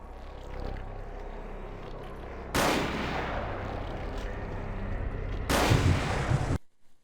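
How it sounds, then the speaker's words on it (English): Grenade explosions in the video game Vampire: The Masquerade – Bloodlines with the Final Nights mod, two heavy booming blasts a few seconds apart over a continuous loud rumble, then abrupt quiet. "Dudes with grenades around boxes around Grunfeld Bach"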